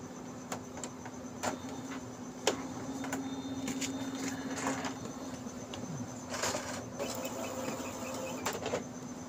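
Whirring, buzzing mechanism of an Epson L1300 inkjet printer with a damaged carriage motor, a steady hum and a series of sharp clicks and ticks as paper feeds through, fairly quiet and continuous.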